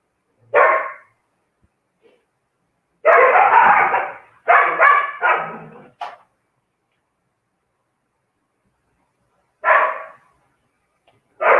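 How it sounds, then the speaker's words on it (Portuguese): Four dogs bark in loud, close bursts, including a dense overlapping run of barks and a few isolated yips, separated by stretches of silence. "as 4 estão latindo"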